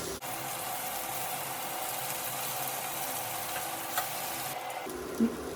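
Fish pieces frying in oil in a pan for a Kerala fish roast, a steady close sizzle and crackle that runs the whole time, with a couple of soft clinks near the end.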